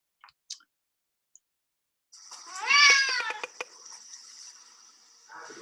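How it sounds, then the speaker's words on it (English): A distressed, stressed-out shelter cat lets out a loud, drawn-out wavering meow, followed by a few short clicks and a fainter sound, after near silence broken only by faint ticks. "That cat was not happy."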